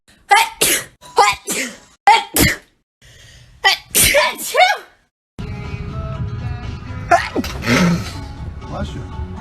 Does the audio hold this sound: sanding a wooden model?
no